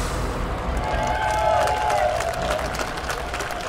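A studio audience at a German TV folk-music show applauds in a dense, continuous wash of clapping and crowd noise that swells slightly midway, with a faint tonal line running through it.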